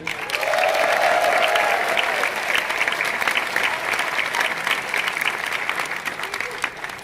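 A large audience at the Megaplex 2021 closing ceremonies breaks into sustained applause for a favorite long-term guest, loud and dense at first, then thinning slightly while steady clapping continues to the end.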